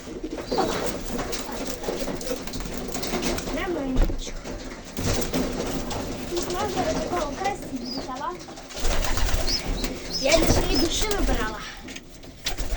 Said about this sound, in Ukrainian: Отакий у мене голуб'ячик.